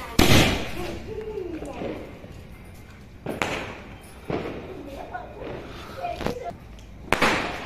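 A sharp firecracker bang opens at a New Year's Eve celebration, followed by several more pops and thuds spaced a few seconds apart, with faint voices in between.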